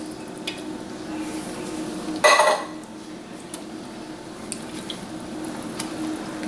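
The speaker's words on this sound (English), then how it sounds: "we're ready to put the peas and carrots in" Peas and carrots drop into a pot of thickening chicken pot pie soup over a low flame, a brief clattering splash and scrape of the pot amid quiet simmering.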